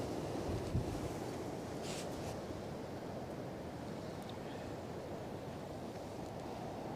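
Storm Éowyn's gusts of over 70 mph roar steadily across Newcastle Airport, a continuous broadband rush with microphone buffeting and no pauses or voices.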